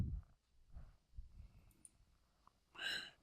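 Faint, sparse clicks of a computer mouse sound close by, with a few isolated taps scattered over a quiet background and a brief breathy sigh near the end.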